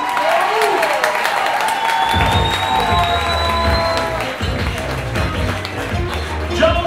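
Audience at a comedy show applauding comedian Joel Swartz, a dense burst of clapping that swells after the first two seconds and continues steadily, mixed with some cheering.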